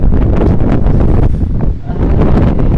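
Strong wind buffets the microphone on an open, exposed campsite on a motorcycle trip in Indonesia, a loud, continuous roaring rumble that surges and dips slightly, with no speech.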